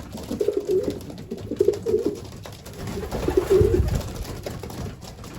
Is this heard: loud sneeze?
no